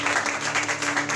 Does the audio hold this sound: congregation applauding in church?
yes